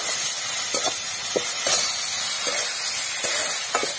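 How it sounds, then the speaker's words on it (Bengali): Chicken meat fries with turmeric and spice paste in a village kitchen, giving a steady bright sizzle throughout, broken by soft scraping stirs at intervals. "মাংসটা একটু ভেজে নেব।"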